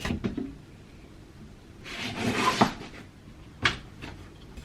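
A kitchen cupboard door opens with a wooden scrape and rub that builds and swells in the middle, then gives a sharp knock. Light rustling and shuffling surround it at close range, and no one speaks.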